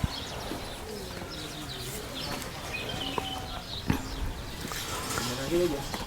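Birds call and coo outdoors on a farm in Al Kharj, Saudi Arabia, amid steady background noise, with scattered chirps rising over faint distant voices.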